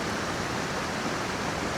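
A big waterfall right behind a campsite in the North Georgia woods rushes as a steady, loud broadband roar, unbroken for the whole stretch with no voices over it.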